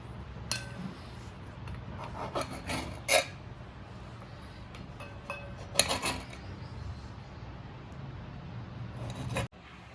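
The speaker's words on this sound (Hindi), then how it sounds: "तो ये लीजिए टमाटर भी हमने स्लाइस में कट कर लिए हैं।" Knife slicing through tomatoes on a cutting board while making paneer tikka, a series of soft scraping rasps and light taps at irregular intervals with a sharper knock near the end, close and moderately quiet.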